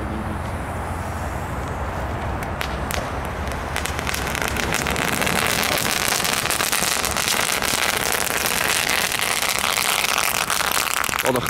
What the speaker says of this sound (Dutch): En dan te bedenken dat deze knetterfonteinen echt het beste waren.